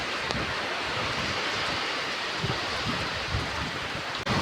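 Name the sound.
rain and strong wind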